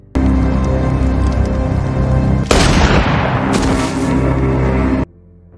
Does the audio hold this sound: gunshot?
yes